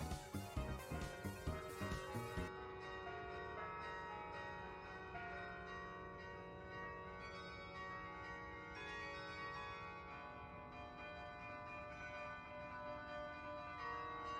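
A bell melody from a video game rings out, starting with a dense, rhythmic run of struck tones, then settling into a sustained, resonant chiming line that carries on steadily.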